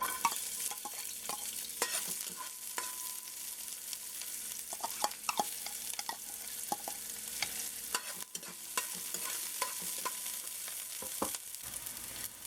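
Onions sizzle and fry in hot canola oil, a steady close crackle broken by repeated scrapes and clicks of stirring.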